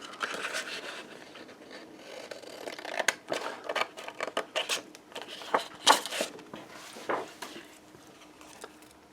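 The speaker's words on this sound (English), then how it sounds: "I'm just carefully trimming that out along the lines." Paper for a layered card being carefully trimmed along printed lines, heard as a close, quiet series of irregular snips and rustling scrapes with small handling taps, no talking.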